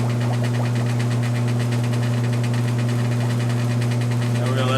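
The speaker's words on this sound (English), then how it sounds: "we're going to let that run for a few minutes until our sanitizer has done its job" An SLX400E soft-serve machine running its sanitize wash cycle gives a steady, loud mechanical hum with a strong low drone, constant throughout and close by, with faint voice-like activity underneath.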